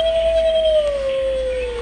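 A Halloween decoration dog in a home improvement store lets out one long, loud electronic howl that slowly falls in pitch over about two seconds.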